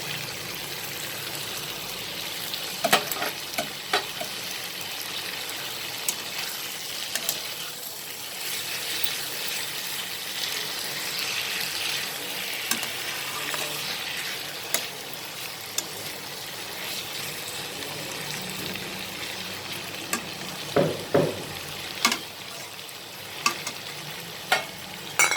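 Tomatoes going into a pan of frying pointed gourd (parwal) masala give a steady close sizzle, with scattered clinks and scrapes of stirring throughout and no talking.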